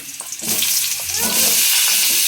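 Kohlrabi and potatoes drop into hot oil in a pan and start to fry, a close, loud crackling sizzle that swells and holds steady with a few stirring clinks, no talk.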